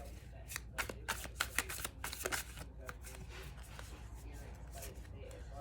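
A deck of playing cards being handled and shuffled, with a burst of quick riffling clicks in the first few seconds that gives way to quieter handling against a steady background hum.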